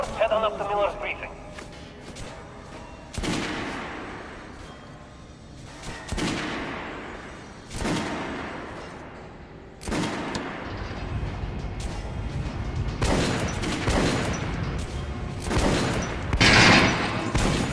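Gunfire in Metro Last Light Redux during a practice range intro: a series of sharp, loud shots spaced a couple of seconds apart, then a denser burst of firing near the end, with a voice speaking in between.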